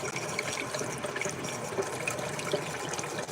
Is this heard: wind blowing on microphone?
no